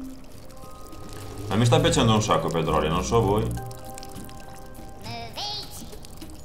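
Objects drop into water in the video game Worms Revolution, a burst of watery bubbling and splashing, followed later by a couple of short bright plopping chirps, with someone talking over much of it and faint background music.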